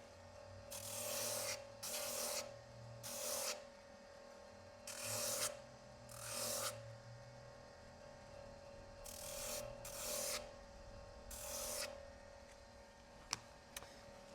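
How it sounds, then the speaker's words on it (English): Leather being sanded with a power sander in a leathercraft shop, a steady motor hum beneath repeated rasping bursts of abrasive contact, each lasting about a second and recurring roughly every second or two, close and moderately loud. "while I'm sanding, I'm creating a pretty good amount of dust"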